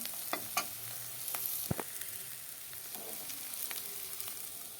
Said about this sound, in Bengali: উচ্ছে আর ভাজা হয়ে গেল এখন আলুগুলোকে ঢেলে দেব